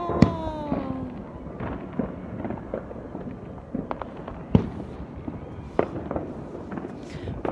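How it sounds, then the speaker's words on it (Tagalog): New Year's Eve fireworks and firecrackers go off all around outdoors, sharp cracks and bangs both near and distant popping irregularly over a steady rumble of more explosions. "Kabilaan ng putukan dito."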